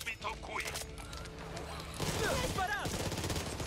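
Rapid bursts of gunfire in the video game Back 4 Blood crackle under excited talking, with a sharper volley near the end.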